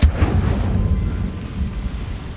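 The Incendio fire spell cast in Hogwarts Legacy, a sudden loud deep whoosh and burst of flame that rumbles on and slowly fades over about two seconds, with no voices.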